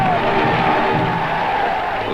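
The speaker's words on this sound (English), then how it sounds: "De Gaulle, shouted the crowds." A large crowd in Algeria shouting for de Gaulle, a dense, steady roar of massed voices that holds loud throughout with no pause.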